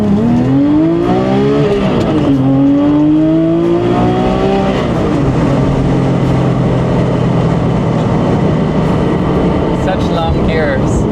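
A Porsche 997 GT3 RWB with a 4.3-liter flat-six engine revs up through the gears, its pitch climbing, dropping at each shift and climbing again, loud and close throughout.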